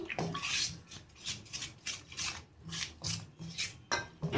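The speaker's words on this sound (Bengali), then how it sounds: "এবার আমি একটা চামচ দিয়ে সমস্ত উপকরণগুলো আমি মিক্সড করে নেব।" A spoon stirs chilli paneer batter made with water, giving close, rhythmic scraping strokes against the bowl, about two per second.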